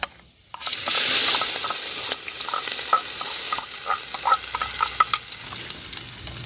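Green chili, ginger and garlic hit hot oil already holding dried red chilies and curry leaves for a chicken curry: a bright, loud sizzle bursts in after a brief quiet start, then settles into crackling with stirring clicks.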